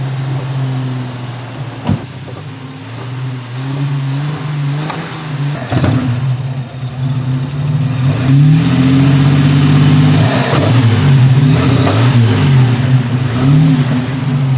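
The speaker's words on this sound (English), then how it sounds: "Sounds like it's getting too much air on the carburetor." A high-performance carbureted engine revs repeatedly at close range, its loud, steady drone rising and falling in pitch with several sharp throttle blips, running rough as if drawing too much air through the carburetor.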